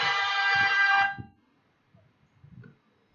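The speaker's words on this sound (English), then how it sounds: "So listen for the tone." A loud electronic race start tone sounds as a single steady buzzing beep lasting about a second, then cuts off, leaving faint low background rumble at an urban touring car race.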